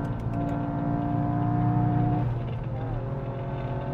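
A Toyota GR Yaris engine revs high and steady on the Sepang circuit, with a strong droning tone heard from inside the car and a slight drop in pitch toward the end.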